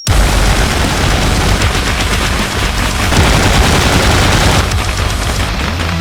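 In a military coup video game, more than 35 troops open fire on a squad at once, producing a dense, continuous roar of overlapping automatic gunfire and booms that stays loud and unbroken throughout, without any speech.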